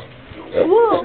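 A child imitates a dog, giving a short rising whimpering yip that bends up and back down, close and fairly loud after a brief quiet lead-in.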